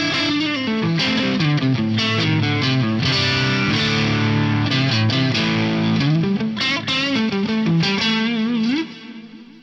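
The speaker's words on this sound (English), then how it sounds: "I then got some stereo pitch detune on here, a pair of multi-tap delays" Electric guitar notes ring out through a shimmering, detuned wash of stereo pitch detune, multi-tap delays and reverb on a Fractal modeller, played on the neck pickup, steadily and loud before fading at the end.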